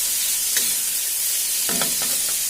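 Onions and tomatoes fry for poha in a pan, a constant close sizzle with a few brief spoon scrapes and taps against the metal breaking through.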